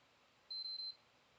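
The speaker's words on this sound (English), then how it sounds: "One beep, two beeps." A PS5 console under repair for overheating, HDMI and GPU faults gives a single clear, steady electronic beep of about half a second, loud against a faint background hum with no talking.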